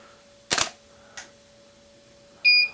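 A strobe flash unit gives one short electronic beep near the end, after a sharp camera shutter click and a fainter second click. The setting is quiet, with a steady faint hum underneath.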